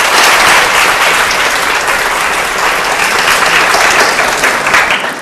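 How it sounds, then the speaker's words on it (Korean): A student audience at a CEO lecture applauds to welcome the speaker, a dense sustained roar of clapping from a large crowd, loud and continuous for about five seconds before tapering slightly. "큰 박수로 모시도록 하겠습니다."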